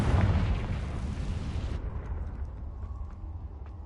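The Confringo blasting spell in Hogwarts Legacy lets off a heavy explosive boom that rolls for a moment, then drops off abruptly into a fainter rumbling tail with a few small pops.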